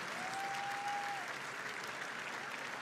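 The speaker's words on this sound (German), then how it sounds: "Ganz großen Applaus" Steady applause from a large crowd at Darmstadt 98's promotion celebration fills the space, with a brief whistle rising above it early on.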